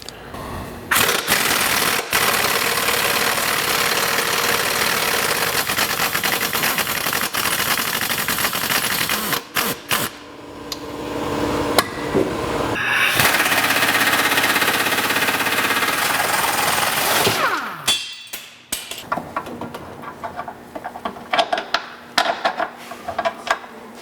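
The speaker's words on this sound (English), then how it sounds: "let's go ahead and get the bolts out of these shocks, get them off of this vehicle," A power tool rattles and hammers away at vehicle shock absorber bolts in a garage, loud bursts of rapid impacts with short pauses, then sporadic clanks and taps near the end.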